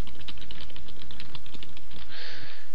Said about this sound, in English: So I'm gonna type in application test